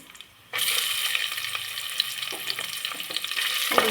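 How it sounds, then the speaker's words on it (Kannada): Onions frying for vegetable donne biryani: a sudden burst of steady hissing sizzle that holds loud and close, with occasional spoon scrapes stirring through it. "ಸಾಫ್ಟ್ ಆಗೋವರೆಗೂ ಫ್ರೈ ಮಾಡ್ಕೊಳ್ಳೋಣ."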